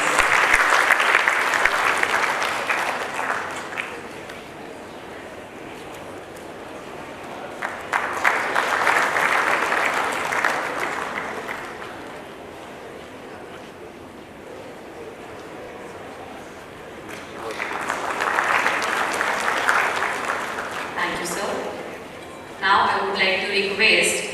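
Audience applause at a professional institute's felicitation programme, three separate bursts of clapping swelling and fading with quieter stretches between, ending in a brief sharper flurry, with a speaker's voice heard in the gaps.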